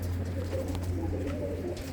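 Pigeons cooing on a rooftop, soft repeated low coos over a steady background hum, fairly faint and close.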